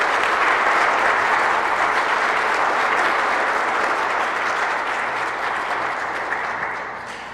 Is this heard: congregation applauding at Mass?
yes